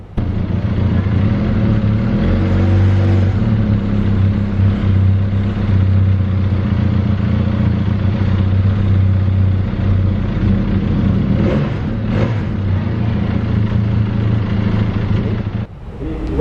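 Benelli 502C motorcycle engine and exhaust running steadily nearby, a loud continuous low rumble with slight revving swells, alone without talk until it cuts off near the end.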